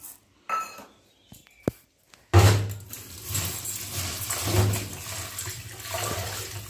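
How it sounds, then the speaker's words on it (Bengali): Water sloshes and pours over lentils in a bowl as they are washed by hand, preceded by a few sharp knocks and clinks, then a sustained splashing swirl up close, with no voices. "ডালটা ভালো করে ধুয়ে নেবো"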